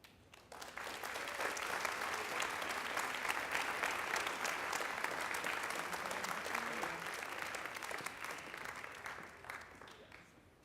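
An audience at a school speech competition applauds after a student's speech, a sustained wash of many hands clapping that rises quickly, holds steady and tapers off near the end, fairly distant and alone.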